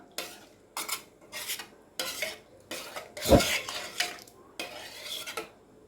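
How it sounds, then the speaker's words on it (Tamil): Rhythmic scraping and clinking of a spoon stirring paruppu kulambu (lentil stew) in a metal pot, several strokes in a row with a louder clank midway, up close. "நல்லா கலந்துக்கலாம்"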